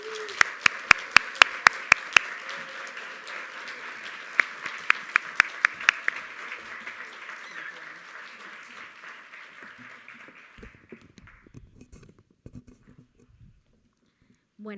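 Applause from an audience at an evening lecture in Puerto Rico, with bright, dense clapping that builds to a steady roar, punctuated by sharp claps in the first seconds, then fades out to quiet.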